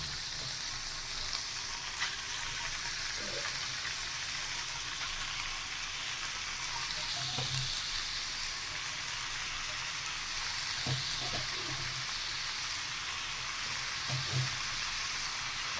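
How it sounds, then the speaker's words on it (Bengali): Boiled carrots, beans and chowmein frying in oil give a steady, faint crackling sizzle throughout, with a few soft clinks of stirring against the pan now and then. "গাজর বিনস সিদ্ধ করে একবারে তেলের মধ্যে একটু অল্প করে ফ্রাই করে নেব"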